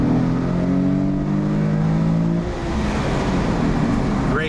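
A Nissan 350Z NISMO engine revs hard during a full-throttle pull, rising in pitch as it accelerates and then turning into a rough, loud roar close by, with a voice briefly audible.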